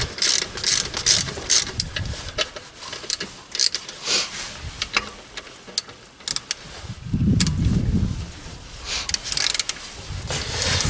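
Close ratchet clicks come in short bursts as bolts are snugged up on a Toyota Matrix 1.8L alternator, with brief pauses and soft handling noises between strokes.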